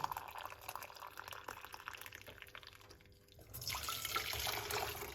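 Hot water is poured into a cup. A soft trickle grows into a louder, steady, splashing pour over the last couple of seconds, with no talking.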